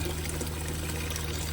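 Water runs steadily from a kitchen sink faucet in a Roadtrek Simplicity RV fitted with a diverter, a continuous close splashing stream with no voices.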